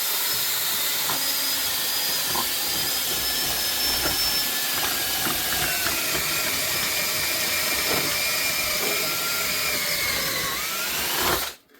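A steady, high-pitched drill whine runs almost continuously, with grinding bursts as a dull bit bores holes through thin plastic cups, then stops abruptly at the end.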